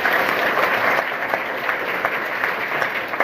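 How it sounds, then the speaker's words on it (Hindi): Loud, sustained applause from a crowd at a school founders' event in Jaunpur, dense steady clapping throughout with no pauses. "एक बार मैं चाहूंगा अपनी मां के लिए जोरदार ताली होनी चाहिए।"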